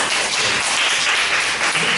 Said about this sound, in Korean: 격려의 박수를 좀 드렸으면 좋겠습니다